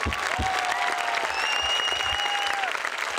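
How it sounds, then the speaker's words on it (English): Crowd applauding at a community celebration in Canton, Michigan, for an Olympic gold medalist swimmer's parents, a loud, continuous roar of clapping with a few whistles rising above it. "Let's have a round of applause for Mom and Dad."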